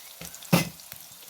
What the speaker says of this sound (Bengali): দেখো পেঁয়াজটা ভাজা ভাজা হচ্ছে